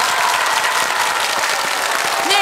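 Loud, sustained applause from a Korean TV game show studio audience, a dense wash of clapping that holds steady throughout.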